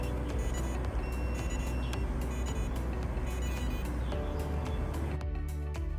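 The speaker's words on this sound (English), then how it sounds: "then long press and hold until a long beep" A long electronic beep sounds as the power switch of an Alpha Me uncrewed survey vessel is held down at startup. The tone is steady and loud over a constant background hum, and it cuts off near the end.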